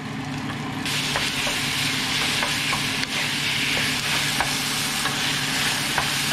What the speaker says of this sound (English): just cook the pork first until it's done